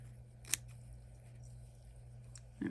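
A single crisp snip of scissors trimming fabric, with a second cutting sound at the very end, faint and close in a quiet sewing room.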